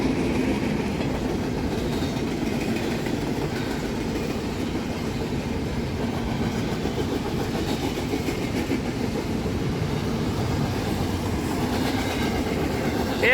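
Freight train on the Norfolk Southern or CSX line rolling past close by at West River Road near a bridge in North Ridgeville or Elyria, a steady loud rumble with clickety-clack of wagons over rails, continuous throughout with no talk.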